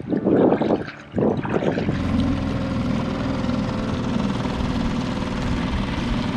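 A small outboard motor drones steadily at close range as the boat struggles against a fast current, with a rushy broadband engine tone that stays even after a brief dip near the start.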